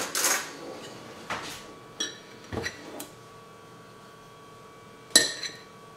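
Eggs being separated into a bowl while making a sweet mayonnaise for a broccoli salad: a few sharp clinks and taps of shell and utensils against dishes, spaced out over quiet kitchen background.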